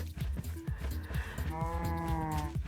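Cows in the Minecraft video game moo repeatedly, with several drawn-out lowing calls overlapping in quick succession at moderate, fairly close volume, and no talking.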